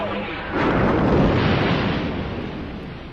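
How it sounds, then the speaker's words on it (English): Explosion sound effect: a loud, broad rumbling blast that swells after a brief lead-in and slowly fades, heard alone without talking. "You can do bigger and more explosion-y than that."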